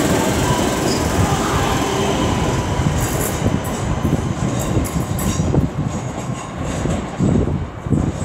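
A Class 323 electric multiple unit, 323215, passes through Aston station with a loud, steady rumble of wheels on rail, rhythmic clicks over joints and a roar that stays close throughout.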